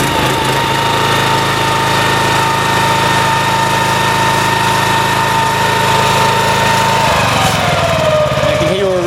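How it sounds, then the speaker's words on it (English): A Honda iGX petrol engine on a pressure washer starts and runs loud and close at a steady high-revving drone near 3200 RPM, then its pitch shifts and sags near the end. "You can hear already how the engine's gone straight to the 3200 RPM when starting up."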